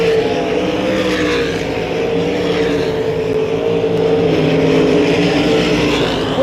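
Sprint cars race around a smooth track, their engines merging into a loud, continuous roar that stays steady and unbroken throughout.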